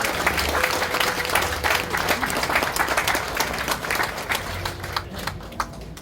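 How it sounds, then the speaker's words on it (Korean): Congregation applauding at a church service opening a memorial hall in Uiseong, Korea: dense, sustained clapping from a large indoor crowd, steady at first and thinning toward the end, with a faint murmur beneath. "큰 박수로 군을 위해서 더 열심히 일해 주시라는 마음으로 격려의 박수 드리겠습니다"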